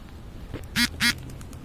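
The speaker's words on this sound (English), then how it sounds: "And they are ducks." Ducks quacking outdoors, two loud, sharp, nasal quacks in quick succession, close by, over quiet background ambience.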